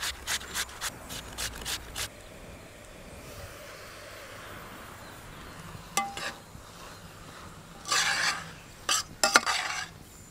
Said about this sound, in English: I'm gonna grate up a few potatoes